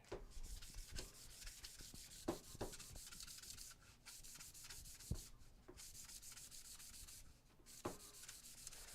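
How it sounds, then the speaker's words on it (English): Hand sanding on a leg of a Gonk droid build: steady close rubbing strokes with brief pauses and sharper scrapes, no talking. "Sand the other leg."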